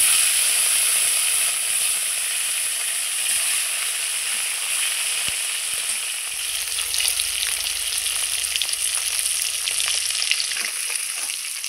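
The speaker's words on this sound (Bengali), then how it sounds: "আমি এক এক করে বাকি মাছগুলো এইভাবে ঠিক ভেজে নেব।" Rui fish frying in oil gives a loud, dense, continuous sizzle and crackle that holds steady throughout, with spitting bursts layered over the hiss.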